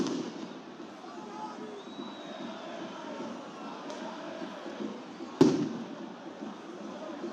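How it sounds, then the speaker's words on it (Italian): During an Italian Serie C football match between Vicenza and Caldiero Terme, a single sharp firecracker bang cracks out over a steady roaring stadium crowd, with a commentator talking throughout. "che petardi, fuochi d'artificio"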